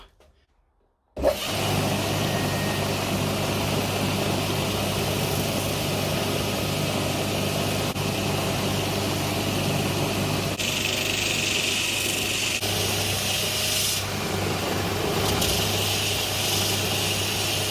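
A power sander or grinder starts abruptly and runs at a steady high whine, loud and continuous, with slight changes in tone as it presses against the tip of an old coal hammer.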